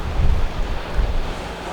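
Steady wind buffeting at a beach with low surf rumbling underneath, a continuous close, moderately loud wash with no voices.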